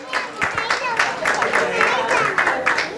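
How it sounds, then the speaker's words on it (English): Applause and clapping from the audience at a Visionary Women awards ceremony in Thane as a club's members accept a token of appreciation, steady and fairly loud throughout, with voices mixed in. "A big round of applause for Innerville Club of Thane Aces, Meena Jagtap and her members accepting the token of appreciation"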